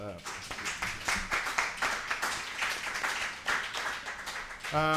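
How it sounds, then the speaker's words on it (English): Applause for two translators at a press club event on informal workers, a patchy round of clapping hands mixed with overlapping voices, moderately quiet and uneven in rhythm. "So please give them a round of applause."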